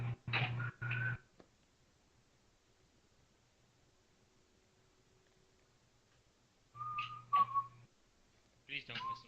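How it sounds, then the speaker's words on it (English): A person whistles sustained tonal notes in two bursts separated by near silence, fairly close and clear, with a faint steady hum between them. "Please don't whistle."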